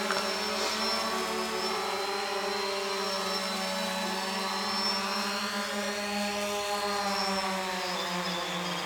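A Xiro drone flies overhead, a steady whining motor drone with a high-pitched tonal hum that holds at an even, moderate level without pause.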